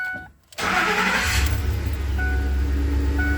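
A Ford F150 engine starts close up: a brief quiet, then the starter catches and the engine fires with a surge. It settles into a steady, loud idle rumble that carries on to the end.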